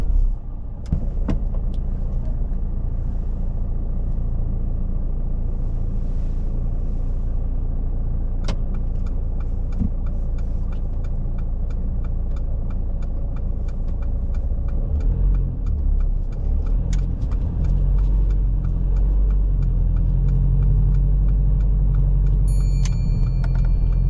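A manual car on a driving lesson idles with a low, steady engine rumble, then pulls away as the engine note rises and deepens toward the end, heard from inside the cabin with a few faint clicks.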